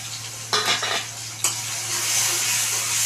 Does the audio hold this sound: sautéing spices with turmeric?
yes